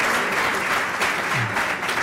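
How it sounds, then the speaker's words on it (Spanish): Attendees at a political forum luncheon in Peru applaud a guest with a brief, loud, continuous round of clapping that holds steady from start to finish. "un fuerte aplauso para él"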